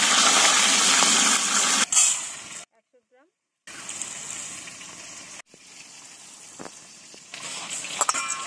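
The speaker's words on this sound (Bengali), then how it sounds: "ডাল আর চালটাকে জল দিয়ে খুব ভালো করে ধুয়ে নেব" Lentils and rice being washed in water for a Bengali muri ghonto, with sloshing, gushing water close by, broken by a brief silent gap and quieter splashing afterward.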